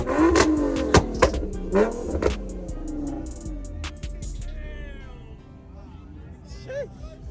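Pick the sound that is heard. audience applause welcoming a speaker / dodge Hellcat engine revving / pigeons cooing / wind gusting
dodge Hellcat engine revving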